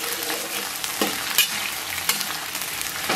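Scallion and ginger stir-fried with soybean paste in a wok over moderately hot oil: a steady, dense sizzle with a few sharp scrapes and clatters of the spatula, close up and fairly loud, no voices.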